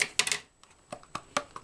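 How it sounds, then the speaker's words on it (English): Scissors snip through packing tape on a Samsung 840 EVO SSD box, giving a handful of quick, sharp, close clicks in an otherwise quiet room. "Just cut the tape there."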